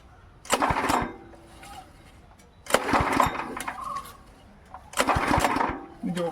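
Three pull-start attempts on the engine of a Min T6HP machine, each a sharp cranking burst followed by a short sputter and a pause, loud and close.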